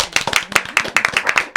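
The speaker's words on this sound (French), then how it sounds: "Donc, on peut applaudir Arnaudine." An audience at a talk on feminism and masculinism breaks into steady, close, dense hand clapping that holds its rhythm for the whole short stretch, with no voices over it.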